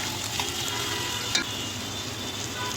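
Chopped onions frying in a pan for a broiler chicken curry, a steady close sizzle with a soft stirring scrape partway through, no voices.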